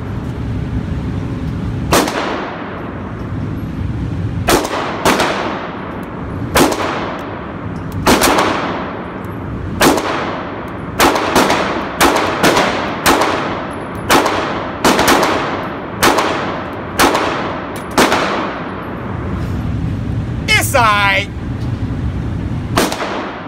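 Sig Sauer P365 pistol fired at 5 yards, a string of sharp, loud cracks, slow and spaced at first, then faster in a quick series, each with a short ringing tail, a brief clatter near the end.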